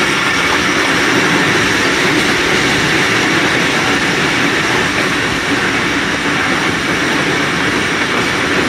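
The Thal Express rumbles steadily through Hyderabad railway station, a loud continuous roar of wheels and carriages heard from on board, without pause or speech.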